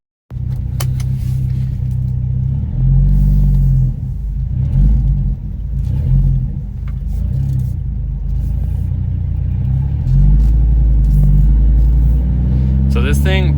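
Deep, steady V10 rumble from a stock Dodge Ram SRT-10 pickup with its Viper engine and the exhaust cutouts open, heard from inside the cab at idle and light throttle, with small swells in loudness and a voice talking over it.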